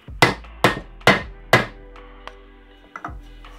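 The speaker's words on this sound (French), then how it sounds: "avec une cale bois et un marteau, on met en place le joint SPI." A hammer strikes a wooden block to seat a crankshaft oil seal on an engine crankcase, four sharp close knocks in steady succession followed by a couple of lighter taps.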